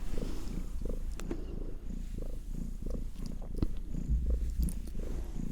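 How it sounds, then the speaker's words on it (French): A cat purrs steadily up close, a soft continuous rumble with a few small rustles and no voices. "elle nous offre ses plus beaux ronrons"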